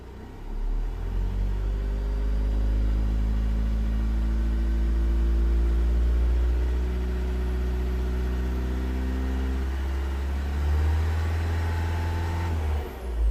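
A 2015 Vauxhall Vivaro 1.6 CDTi diesel van engine rumbles, climbs steadily in revs toward 3000 rpm, then drops abruptly as it cuts out, loud and close with no talking.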